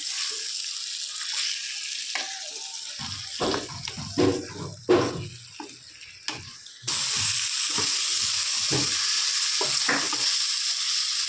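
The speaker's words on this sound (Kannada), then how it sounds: "ಚಿಕನ್ ಹಾಕ್ಕೊಂಡಾದ್ಮೇಲೆ ಚೆನ್ನಾಗಿ ಎಣ್ಣೆಲೆ ಮಿಕ್ಸ್ ಮಾಡ್ಕೋಬೇಕು ಇದನ್ನು" Chicken pieces stirred in oily masala in a hot pan for green chicken gravy, a loud close sizzle with repeated spatula scrapes and knocks, the frying hiss jumping louder near the end.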